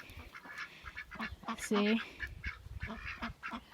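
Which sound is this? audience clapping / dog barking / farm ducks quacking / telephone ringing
farm ducks quacking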